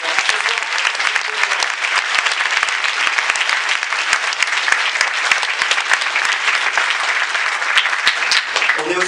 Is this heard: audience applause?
yes